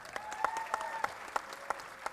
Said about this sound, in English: we would like to give everyone a warm round of applause once again.